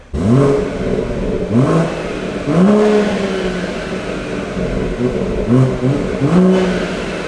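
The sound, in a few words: car stock exhaust revving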